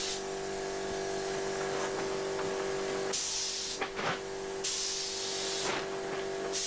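Spray gun spraying epoxy primer over welded rust repairs on a camper van: a steady, close airy hiss that runs in bursts, with short pauses and a fluctuating rush as the gun passes.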